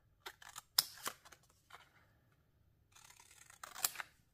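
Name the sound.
scissors cutting paper ephemera pouches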